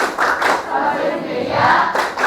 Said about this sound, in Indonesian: Silakan, tepuk salut.